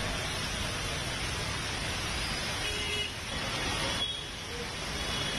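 A road in Delhi after heavy rain, with traffic jammed near ITO and Dhaula Kuan, produces a steady wash of engine and road noise and a few faint horn toots throughout.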